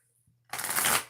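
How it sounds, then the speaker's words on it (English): A deck of tarot cards gets one quick riffle shuffle, a dense burst of papery fluttering after a short near-silent lead-in, close and loud, with no talking. "One more shuffle."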